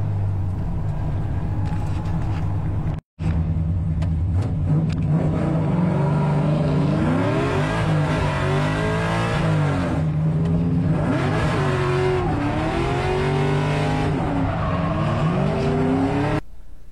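A tuned race car engine revs hard on track, one continuous loud run of rising and falling engine tones broken by a brief cutout near the start, close and alone with no voices.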